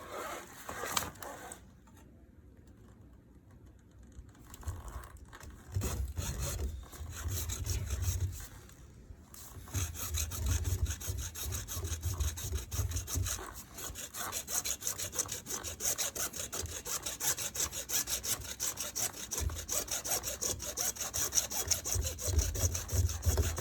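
A hand saw cuts through plastic pipe for a pool autofill irrigation valve install, steady rhythmic rasping back-and-forth strokes close up, pausing briefly early on before continuing strongly to the end.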